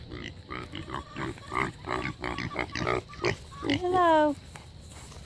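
Pigs grunt in short, repeated bursts while they are given a snack, and a person talks to them nearby as a drawn-out squeal rises toward the end.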